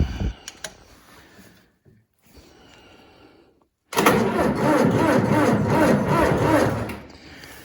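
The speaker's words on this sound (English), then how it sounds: "the 3-point hitch is trying to lift the blower, which means the starter is really overworked" A tractor's starter strains to crank the engine while the 3-point hitch tries to lift a snow blower, a loud sudden grinding roar that bursts in midway after quieter rustling and runs steadily for several seconds.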